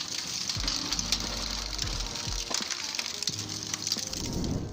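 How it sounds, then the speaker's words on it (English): A flywheel-driven kinetic log splitter drives a wedge through firewood, producing close mechanical clatter with repeated thuds and cracking bursts of splitting wood over a constant engine hum. "When the flywheel starts spinning, the kinetic wood splitter feels like a catapult for logs."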